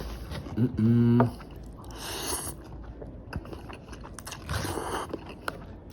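Crunchy vegetables in noodles with home-style chicken being chewed close up, a series of crisp bites and chewing crunches, with a short voiced sound early on and muffled mouth noises between.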